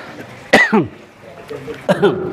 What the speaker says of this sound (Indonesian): Batuknya bunyinya kopi.